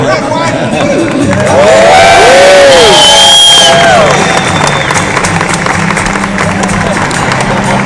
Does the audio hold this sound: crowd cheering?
yes